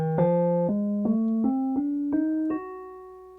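Synthesizer playing in the Bohlen-Pierce scale: a sustained, clear tone that steps upward through about seven unusual intervals at a steady pace, each change marked by a soft attack, ending on a held note.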